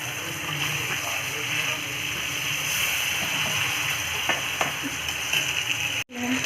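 Fish fries in oil in a pan with a continuous, close sizzle and light bubbling throughout, and a brief dropout near the end.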